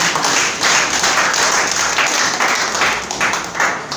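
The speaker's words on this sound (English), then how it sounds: "Please, a round of applause for him." An audience at an indoor gathering applauds to welcome a guest speaker with a dense, steady burst of many hands clapping at once, loud and sustained throughout without a clear break.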